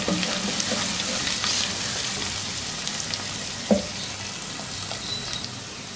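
Sliced green chilies and garlic-ginger paste fry in a pan with a steady hiss and crackle, broken by a single sharp knock of a utensil partway through.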